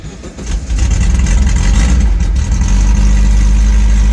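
An old car's engine cranks briefly, catches and settles into a loud, steady rumbling idle at close range, with no talk over it. The car is parked by the Dalton Highway in Alaska.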